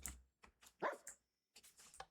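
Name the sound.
dog barking in the video game Minecraft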